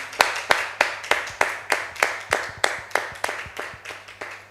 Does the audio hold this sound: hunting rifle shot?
no